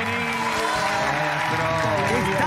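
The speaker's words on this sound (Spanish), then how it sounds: "Es él, un aplauso, por favor." A live TV studio audience applauds continuously as a musician is welcomed onstage, a dense clapping wash with a host's voice and music running through it.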